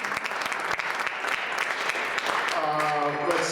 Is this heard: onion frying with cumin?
no